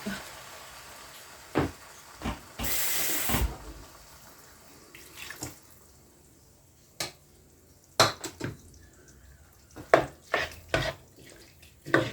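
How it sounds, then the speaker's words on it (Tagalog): Water is poured into a hot pan of pork menudo in a home kitchen. A short rushing burst is followed by scattered clinks of utensils and pans, with quiet pauses between them. "Lagyan ko ng tubig."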